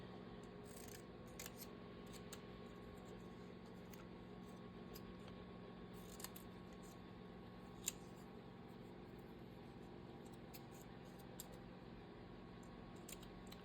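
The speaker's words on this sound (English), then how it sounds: "I think I need to cut this apart and break it down there." Scissors snip paper for a reading journal, a series of faint, close, irregular cutting clicks spread over several seconds against a quiet room hum.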